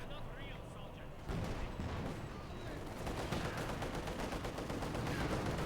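Tank cannon fire in Company of Heroes 2, with a Panther and a T-34 trading shots amid a dense, continuous wash of battlefield gunfire and booms, heard under a commentator's voice.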